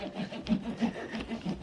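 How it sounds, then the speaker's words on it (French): Wood fibre insulation cut with the fine-toothed side of a saw held against a guide, giving close rhythmic rasping strokes about three per second in a short continuous burst. "C'est de la laine de bois, faut couper avec les petites dents."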